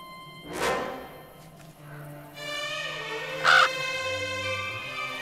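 A crow caws inside a horror short film, its harsh calls standing out loud and close over a droning, tonal film score with a brief sharp accent.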